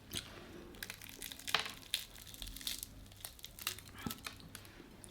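Crispy fried Jollibee Chicken Joy crunches between the teeth in close, faint, irregular bites, with small crackles spread through the clip and no talking.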